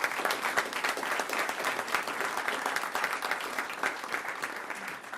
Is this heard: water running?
no